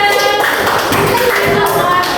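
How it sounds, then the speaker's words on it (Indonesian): A classroom audience claps for a student group after a presentation on planting tomato seeds, a short loud burst of mixed clapping with voices mingled in. "tepuk tangan untuk kelompok 3"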